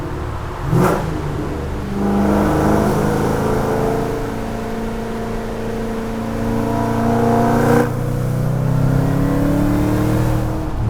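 A Ford Shelby Mustang GT500 muscle car engine pulls hard under acceleration for a long stretch, a loud steady roar rising in pitch, dipping briefly at a gear change near the middle, then climbing again.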